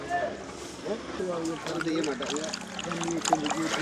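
Rice washed by hand in water in a Batticaloa village kitchen, with soft sloshing and trickling under steady talk.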